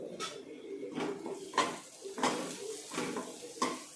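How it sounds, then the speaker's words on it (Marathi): Spices and chopped coriander being stirred in a pan for Maharashtrian-style dal tadka, heard as repeated clinks and scrapes of a spoon against the pan over a light sizzle. "चांगलं परतून घ्यायचं आहे"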